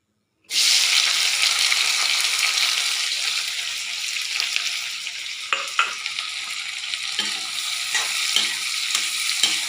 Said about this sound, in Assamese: বিলাহী ৰচুন পিঁয়াজ আদি সকলোবোৰ দি পেলাই এয়া ভাজি লৈছোঁ।